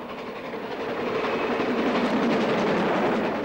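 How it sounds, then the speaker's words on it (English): GWR steam locomotive Pendennis Castle climbing the old Great Western main line through outer London suburbs, heard as a steady, rising rumble of train noise with faint rhythmic clatter, building in loudness over a few seconds with no talk. "This is the last run of the famous Pendennis Castle, climbing through the outer London suburbs on the old Great Western main line to Birmingham."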